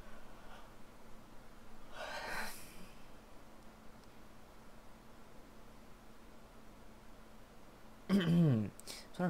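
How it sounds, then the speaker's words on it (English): A person yawns during a relaxed online roleplay gaming session. A long, breathy, drawn-out yawn with a rising and falling voiced sweep sounds near the end, after an earlier soft breathy exhale, over faint background hiss. "I'm yawning"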